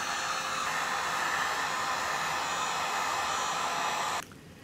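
Heat tool blowing hot air onto craft fairy wings to shrink them, a loud steady hiss and whoosh running several seconds before abruptly shutting off, with no speech.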